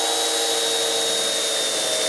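A high-pitched power drill drilling wood whines steadily at close range, continuous and loud for a couple of seconds.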